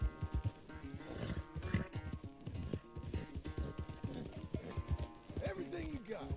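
Horse hooves clip-clopping in Red Dead Redemption 2, a rhythmic series of close thuds with music and someone talking over them.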